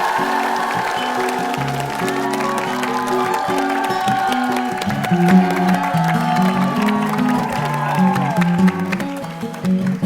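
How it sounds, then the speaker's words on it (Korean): Studio audience applause on a Korean TV variety show rises and holds, a dense wash of clapping with some cheering, mixed with music and voices in a large room. "이 현상에 도전하는 이한량을 큰 박수로 맞이겠습니다"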